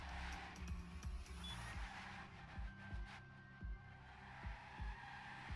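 Racing cars in a video game slide through a turn during a qualifier match, tires skidding in a run of repeated thumps and squeals, with engine noise underneath and no voices.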